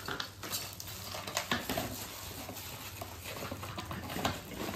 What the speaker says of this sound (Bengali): এই যে রূপোর বাটি চামচ।